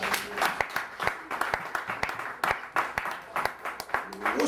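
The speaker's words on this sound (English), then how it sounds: "Y'all give a man a round of applause" Audience at a hip hop gathering claps and cheers in a steady, dense wash of applause, with sharp individual claps standing out and some voices mixed in.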